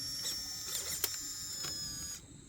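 An Injora 35 kg servo winch on an RC crawler whirs with a thin, high-pitched mechanical whine, steady and close, with small ticks before it cuts off at the end.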